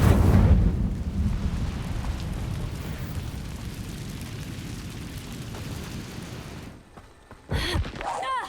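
Incendio fire spell cast in the Hogwarts Legacy video game, a loud rumbling, crackling whoosh that rolls on for several seconds, then cuts off and gives way to brief bright magical chimes near the end.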